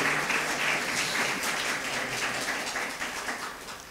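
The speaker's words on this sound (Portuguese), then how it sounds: "Dê uma salva de palmas para Jesus" Church congregation applause during an evangelistic service, a loud, dense burst of clapping with some cheering that fills the hall, then gradually thins and fades toward the end.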